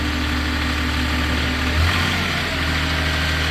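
A 2016 Princeton PB55.3 truck-mounted piggyback forklift's engine runs close and loud at a steady idle, with a brief rise in revs midway.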